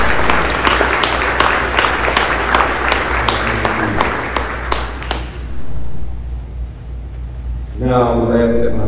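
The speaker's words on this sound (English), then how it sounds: "Please give these juniors a round of applause for your contribution." Audience applause for juniors at a school evening of excellence, crisp clapping from a modest crowd for about five seconds, then near silence and the start of a voice.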